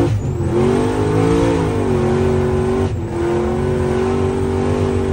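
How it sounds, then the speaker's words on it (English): A work truck's engine runs steadily and loud, with a droning, slightly wavering tone and a brief dip near the three-second mark, an odd, uneven running noise heard close with no talking. "My work truck's making really weird noises."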